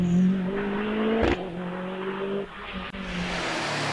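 A rally car, an AMS Bretaya built on a Subaru Impreza with a fiberglass body kit, runs a hillclimb at night, its engine note droning steadily with shifting pitch and a sharp break partway through, fairly close.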